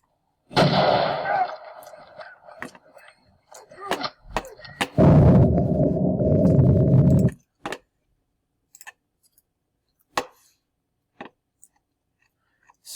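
Rifle shots played back from a recording: a loud blast, then several sharp clicks and a second long heavy boom, followed by scattered faint ticks and near silence.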